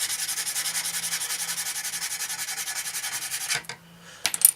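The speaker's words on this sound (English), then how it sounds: "Sand these down." Sandpaper rubbing plastic parts of a 1/72 Handley Page Hampden Mk.I scale model kit, a steady, close rhythm of quick back-and-forth strokes that stops briefly and ends with a few light taps and scrapes.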